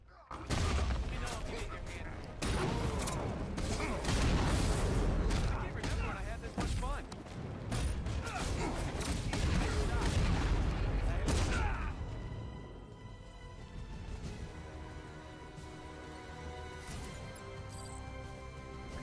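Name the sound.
drone battle gunfire in Batman Arkham Knight video game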